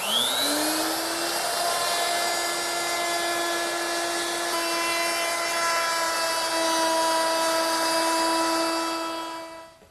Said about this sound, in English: the last milling operation is to round over these edges on all 4 sides. And to do that, I'm going to use my 1/4 inch rounding over bit